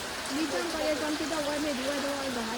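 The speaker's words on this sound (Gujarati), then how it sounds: "જુઓ વરસાદ તો પડે છે" Steady rain patters outdoors in a continuous hiss while a voice talks over it in a sing-song tone close by.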